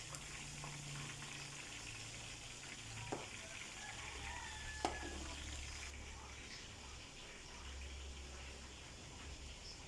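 Faint, steady crackling sizzle of chicken frying in oil, with soft low hums and an occasional light tap in the background.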